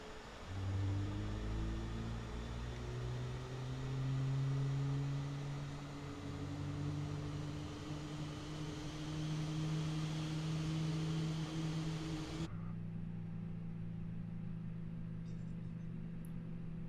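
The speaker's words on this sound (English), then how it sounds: "watch as engine 2 starts" An Airbus engine 2 spools up in a flight simulator, with a steady whine and rising tonal hum that build and hold for several seconds before cutting sharply to a quieter, thinner drone.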